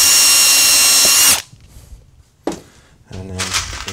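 A power drill runs loud and steady for over a second as it drives a screw into the wooden board of a homemade hedgehog house, then cuts off, followed by faint knocks and a short second burst.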